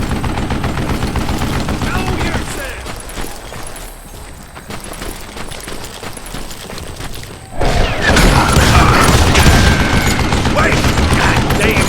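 Video game gunfire from Call of Juarez Gunslinger: dense, loud bursts of rapid shots and crashes fill the whole stretch, thinning briefly in the middle before a heavier barrage resumes.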